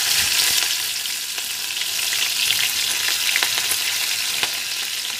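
Green chillies hit hot oil in a pan for a no-onion, no-garlic mixed vegetable curry, giving a loud, continuous close sizzle with faint crackles and stirring clicks, and no talk.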